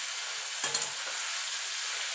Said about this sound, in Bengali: এবার কচুরলতিটা দিয়ে দেবো।